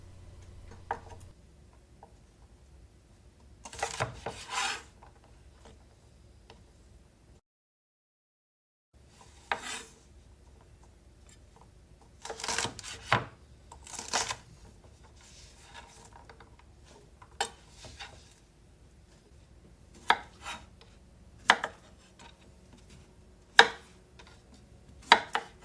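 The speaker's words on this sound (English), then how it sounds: "we're going to go ahead and cut off the tips and cut them into thirds and throw them into the bowl" A knife trims the tips off green beans and cuts them into thirds on a cutting board for minestrone soup: sporadic sharp, close chopping taps in short bursts, with one brief silent gap and no talking.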